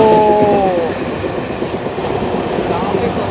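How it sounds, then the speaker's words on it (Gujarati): A train rumbles past close by with a loud, continuous roar and rattling wheels, a horn-like tone fading at the start. "આ ટ્રેનની સ્પીડ જુઓ"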